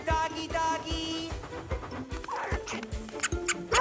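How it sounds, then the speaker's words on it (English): A cartoon dog yips and barks in quick bursts, with scampering clatter and bright animated sound effects between the short, close yelps. "Here, doggy, doggy!"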